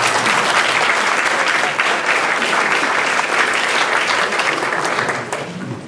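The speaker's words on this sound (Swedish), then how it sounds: "Vi tar en applåd till." Sustained audience applause from a seated crowd at a Swedish panel discussion on liberalism, dense steady clapping that stays loud throughout before tapering slightly at the very end.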